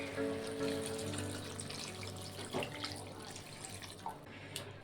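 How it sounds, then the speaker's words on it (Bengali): Water poured into a pan of Malabar spinach and shrimp curry gives a steady close splashing rush for several seconds, with a faint background hum. "এখন একটু জল দিয়ে দেবো।"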